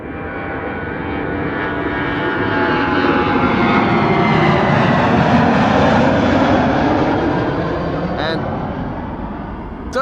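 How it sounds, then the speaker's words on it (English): A United Boeing 777 takes off at Amsterdam Schiphol Airport on a sunny winter day, its powerful engine roar building to a loud peak mid-way and easing slightly toward the end. "It does look like the 777 from United will be next."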